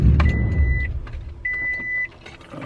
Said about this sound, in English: The truck started and then it shut immediately off.